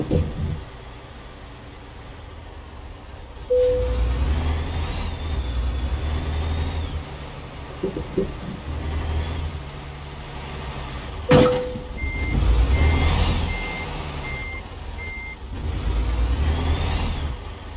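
A big truck engine in American Truck Simulator rumbles and revs in low surges, while a reversing alarm beeps in short regular pulses partway through, with occasional air-brake hisses.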